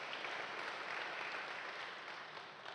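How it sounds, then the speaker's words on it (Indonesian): A church congregation at a Sunday service claps together in a dense, sustained wash of applause that holds steady and begins to thin toward the end, with no voices standing out. "Tepuk tangan buat Allah kita"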